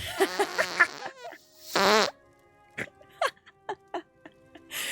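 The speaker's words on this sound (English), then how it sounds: "Thank you for doing your part and making a fart. It's so loud." A loud fart sound effect plays as a stream donation alert, with a burst of squeaky farting followed by a longer blast and then a string of short sputtering pops, alone.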